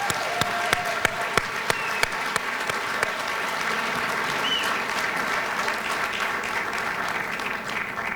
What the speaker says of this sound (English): I think we need to give you a great round of applause for all of your dedicated service